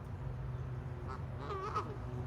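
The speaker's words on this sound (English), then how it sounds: "These geese definitely want to be a part of the video. They're being very loud." Geese honking loudly outdoors on a farmhouse property, a few harsh calls clustered over a couple of seconds above a steady low background rumble.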